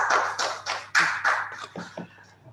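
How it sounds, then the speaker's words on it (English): Audience applause welcoming a bishop at a parish gathering, a short burst of clapping from a small group in a room that thins out and fades within a couple of seconds. "Let's give a round of applause and welcome His Excellency Bishop Paul Hinder."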